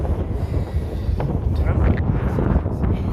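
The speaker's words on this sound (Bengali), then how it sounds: "এত হাওয়া" Strong wind roars and buffets steadily, a dense rumbling rush with faint voices underneath.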